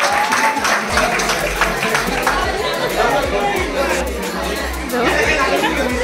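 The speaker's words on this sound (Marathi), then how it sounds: "चला वाजवा टाळ्या वाजवा" A village lottery crowd claps and chatters together, steady applause mixed with lively talk throughout, close and fairly loud.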